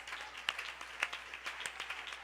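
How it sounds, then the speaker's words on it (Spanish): A church congregation claps during a worship service, a faint, brief patter of hand claps with a few sharper individual claps standing out over low room hum. "Demos un fuerte aplauso para nuestro Dios."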